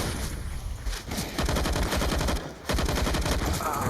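AUG rifle fire in the game Counter-Strike during a Nuke map esports match, rapid automatic bursts in three loud stretches separated by brief gaps, with a faint voice underneath.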